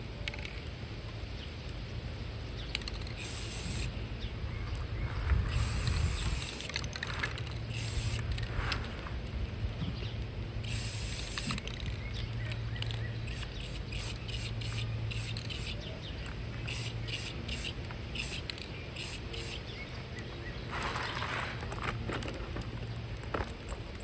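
Aerosol spray paint hissing in repeated bursts over a homemade solar-powered outdoor patio chandelier, short and longer sprays with brief pauses, close and steady.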